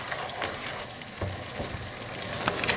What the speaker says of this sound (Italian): rimescoliamo con cura finché il formaggio non si scioglie